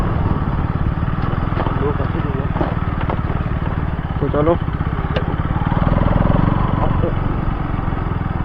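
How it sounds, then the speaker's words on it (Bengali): A motorcycle rolls along at low speed with a steady engine drone and heavy wind buffeting the microphone, while a person speaks briefly over the rumble. "বাইকের স্পিড বেশি নেই কিন্তু বাতাসটা বুঝে দিচ্ছে তো আর তাই জন্য হয়তো একটু আওয়াজটা অন্যরকম"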